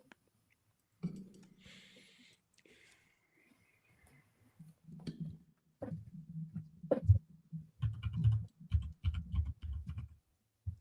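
Typing on a computer keyboard: quiet, close clicks and key taps that begin sparse and become a denser, irregular clatter toward the end, with no talk.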